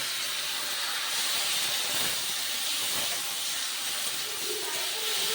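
Spice masala sautéing in oil for fish curry gives a constant, dense hissing sizzle that stays even and fairly loud from start to finish.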